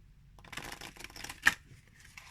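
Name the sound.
shuffling glossy standard-size oracle cards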